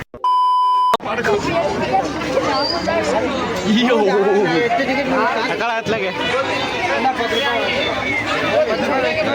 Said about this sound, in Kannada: ಜನ ಜಾತ್ರೆ ಗಾಯ್ಸ್